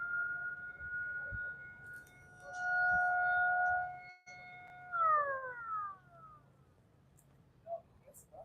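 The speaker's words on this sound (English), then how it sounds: "We're playing with a siren over at the marina." A distant siren at Black Point Marina holds a steady wailing tone, then slides downward in pitch before fading out into quiet outdoor ambience.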